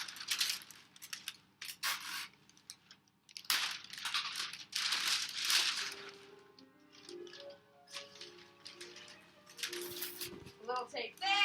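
Presents are wrapped with paper, scissors and tape: bursts of crinkling paper and tape being pulled and torn come in clusters with quiet gaps, close to the listener, with faint voices in the background.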